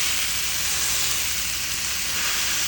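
A beef smashburger patty pressed flat on a hot grill gives off a loud, steady sizzle with a dense hiss that continues unbroken throughout, with no voices over it.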